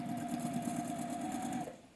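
A sewing machine runs a short partial seam, its steady rapid whirring hum holding evenly up close before winding down and stopping near the end.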